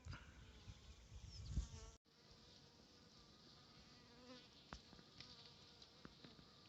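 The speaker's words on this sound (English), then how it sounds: "They got a bunch of bees flying around, orienting" Many honeybees buzz around a hive close by in snowy winter, a continuous droning hum with individual bees passing near, after a brief louder rustle at the start.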